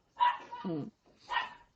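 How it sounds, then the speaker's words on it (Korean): A puppy barks loudly indoors, two sharp close bursts with a brief pause between them. "저는 이제 강아지가 열심히 세차게 짖고 있네요"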